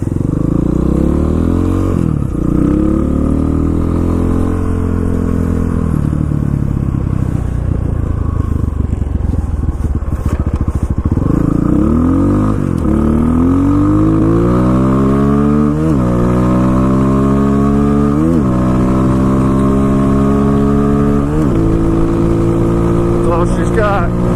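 A 2019 Pitster Pro XTR 250 LC pit bike rides along a main road, its engine droning steadily and rising in pitch through repeated gear changes, loud and close under wind noise.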